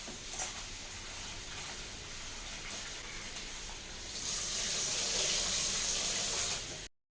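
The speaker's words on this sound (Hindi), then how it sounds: "और अभी मैं आलू को भी मैं अच्छे से धो" Tap water runs steadily while potatoes are washed at a home kitchen sink, a broad hiss that swells louder and brighter in the final seconds, with no talking.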